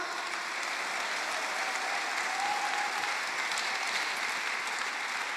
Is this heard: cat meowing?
no